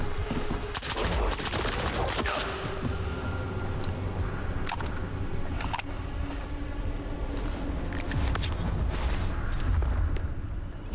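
Rapid gunfire from the video game S.T.A.L.K.E.R. 2: Heart of Chornobyl, dense bursts of automatic shots and sharp single cracks over a continuous loud rumble of game action, with no talking.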